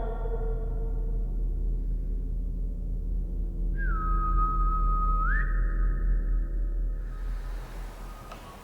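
A magpie gives a single clear, drawn-out whistle, a steady sustained tone that bends upward at its end, heard fairly close over a low humming background inside an old abandoned asylum.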